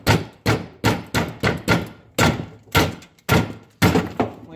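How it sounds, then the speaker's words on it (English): A mossy oak bowie knife is struck repeatedly with a piece of wood to baton through firewood, producing about a dozen loud, close, hollow thunks at an uneven, steady pace. "You just run the knife in between the wood, and now you have split the wood so that you have smaller pieces of firewood."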